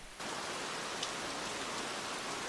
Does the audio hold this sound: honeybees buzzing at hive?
no